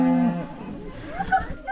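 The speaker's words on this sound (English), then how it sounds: "Looks like the cows have escaped." Cattle mooing near a lakeside dog campsite at Lake Hāwea, a single drawn-out low moo, close and fairly loud, with no talk over it.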